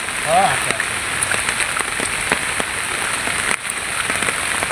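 Steady rain patters down on a water-lily wetland with scattered drop hits; a brief voice-like tone sounds early on.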